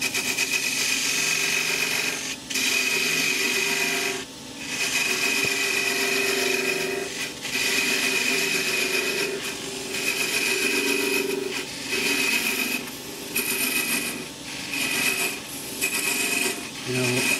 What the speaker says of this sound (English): I'm going to just put a parting line where I'm going to part the lid off